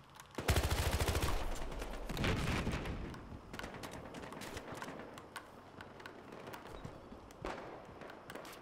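Loud rapid gunfire and booms fill a Battlefield Hardline match, starting with an intense burst. It thins into scattered, softer shots and distant cracks over a busy game backdrop.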